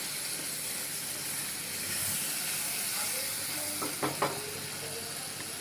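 Six garlic cloves and two medium onions sauté in a pan for a prawn malai curry, giving a steady close sizzle and hiss that runs throughout, with a couple of faint clinks near the end.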